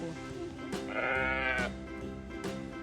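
A sheep at a children's petting farm bleats loudly and close, one long wavering cry between shorter bleats, with faint chatter of people nearby.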